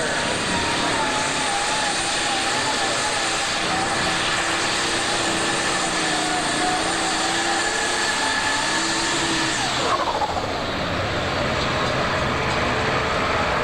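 An International tractor roars down the track at a super stock tractor pull at the 1988 Ohio State Fair, a loud, steady engine howl with shifting pitch that drops off sharply near the end.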